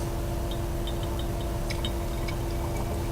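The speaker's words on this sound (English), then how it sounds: "You added two liquids together that were clear" One clear liquid solution being poured into another in a chemistry demonstration of a lead iodide precipitate, a faint steady trickle with a few small splashes over a constant background hum.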